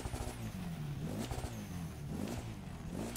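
Mitsubishi Eclipse in the racing game The Crew 2, a deep engine firing up and revving in repeated surges, fairly quiet and alone with no talking.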